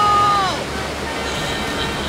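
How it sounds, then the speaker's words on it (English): A cartoon waterfall roars as a loud, continuous rush of churning water, with a brief voice-like tone at the very start. "Waterfall!"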